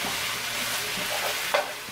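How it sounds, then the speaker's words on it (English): Ground meat browning in a pan for a tater tot casserole gives a steady, even sizzle with a brief louder stir or scrape near the end, and no voices. "you want to brown the meat"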